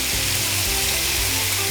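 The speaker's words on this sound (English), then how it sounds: "Then we're gonna add our spicy pork." Spicy marinated pork for Korean bulgogi hits hot oil in a frying pan, giving a loud, steady, dense sizzle throughout with no talking.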